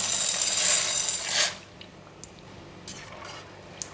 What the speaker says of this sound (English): We put in the elbow macaroni in.